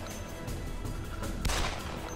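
Pistol shots from the game ET Armies, a couple of sharp cracks with a louder report near the middle over a dense game background.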